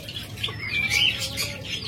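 A pair of green opaline budgerigars chirps in quick, overlapping twitters and short warbles, fairly close and steady over a low background hum.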